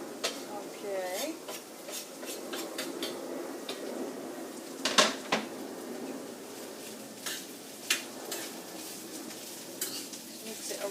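A spoon stirs chicken pancake filling with onions in a pan, scraping and clinking at an uneven pace over a soft sizzle, with a few louder knocks against the pan.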